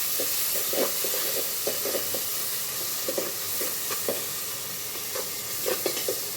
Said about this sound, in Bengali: আর এখন দিলাম বাটা রসুন একটু